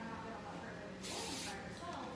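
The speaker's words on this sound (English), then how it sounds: "spray a little bit at her root" A short burst of hairspray misted at the root of a woman's hair during a blowout, a brief airy hiss of about half a second rising over a quiet room with soft background murmur.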